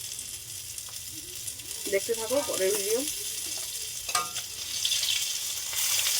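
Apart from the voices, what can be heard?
fish frying in oil, sizzling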